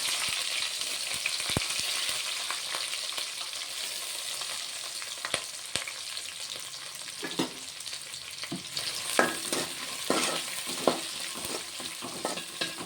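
Cut onion, green chilli and dried red chillies fry in a pan with a continuous hiss, and stirring scrapes and clinks grow busier toward the end.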